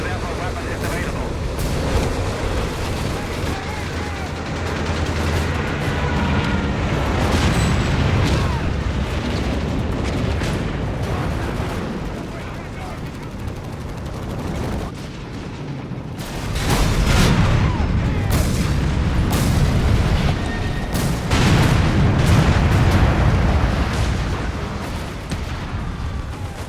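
Rocket artillery barrage from Nebelwerfer launchers in the World War II strategy game Company of Heroes 3, heavy continuous booms and rumbling explosions filling the scene, loud and dense, surging again in the second half.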